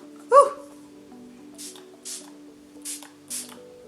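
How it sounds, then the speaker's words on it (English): MAC Fix Plus setting spray misted onto the sides of a face during a makeup routine, a close burst followed by several shorter spritzes spaced about half a second apart over quiet background music. "my MAC Fix Plus just to spray the sides of my face"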